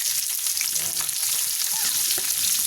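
Onions and garlic sauté in a pan, a soft continuous sizzle with faint clinks and shuffles of stirring, close by and fairly quiet, with no talk.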